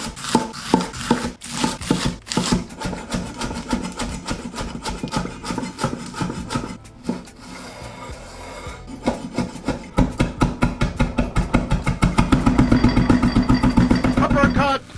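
A knife slicing lettuce thinly on a cutting board, producing rhythmic crisp chopping strokes that speed up into a fast, steady run.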